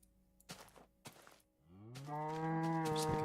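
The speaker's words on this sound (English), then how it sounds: "There's a cow up there. Making a lot of noise, making a lot of ruckus." A cow in a Minecraft-style game gives a long, loud low moo that swells and holds, preceded by a few soft clicks and thuds.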